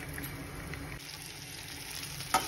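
Sliced coriander vadi pieces sautéed in hot oil tempered with sesame and mustard seeds, a soft steady sizzle with faint stirring and a small clink near the end.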